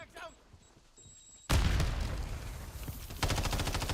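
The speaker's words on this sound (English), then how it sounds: "Throwing Semtex." In a video game firefight, a thrown Semtex grenade goes off with a sudden loud boom, and then dense gunfire carries on and swells again near the end.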